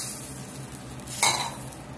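Beef broth poured into a hot pan of red wine pan sauce for filet mignon, a loud burst of sizzling and stirring that swells midway through the short moment, with no talking.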